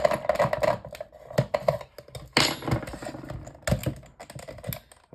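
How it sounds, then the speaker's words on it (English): Screws are being removed from a mini fan heater during scrapping, heard as close, irregular clicks, ticks and rattles of a screwdriver and loose parts in quick uneven bursts. "Now there are some screws here which I do need to remove."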